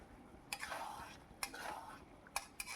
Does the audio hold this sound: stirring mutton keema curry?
yes